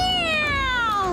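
A cartoon cat gives a single drawn-out meow that slides downward in pitch, close and loud.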